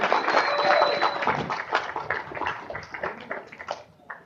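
Audience at a tournament briefing gives a round of applause, a busy patter of clapping that starts full and thins out toward the end, fairly quiet and roomy.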